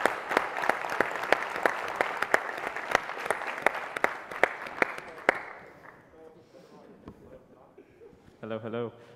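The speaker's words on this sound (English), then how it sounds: "so just a round of applause for them" A festival audience gives a round of applause, with sharp individual claps standing out over the crowd before it fades out, followed by a brief voice.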